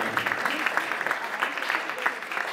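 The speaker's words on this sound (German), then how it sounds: "Man sollte dem Fritz persönlich auch mal einen Applaus geben" Audience applause at a tournament award ceremony, a short burst of many people clapping close by with uneven, fluttering hand claps throughout.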